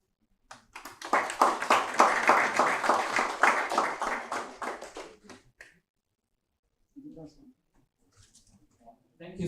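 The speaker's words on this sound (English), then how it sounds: "I believe you are still clapping for that." An audience at a hackathon grand finale breaks into dense, sustained clapping that swells, holds for about five seconds, then fades out, followed by a few faint voices and small sounds.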